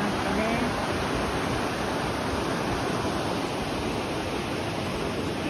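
A clear river flowing through Yumori park in Gifu, a steady, full rush of water with no breaks, close and fairly loud.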